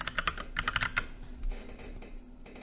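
Short bursts of key taps enter a six-digit pairing code for a Withings watch during app setup, about eight quick close clicks followed by a couple of softer taps, with no talking.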